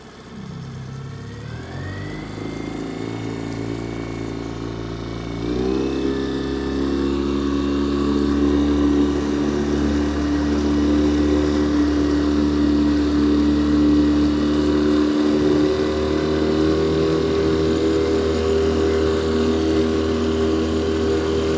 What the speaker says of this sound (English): First we'll just run the kicker real quick since we got it here.